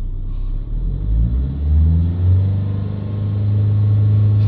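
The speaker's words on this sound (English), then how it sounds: "Hold the revs up." A car engine runs steadily with the revs held up during a diagnostic check, giving a loud, continuous low rumble that swells slightly mid-way and holds firm to the end, with no talking.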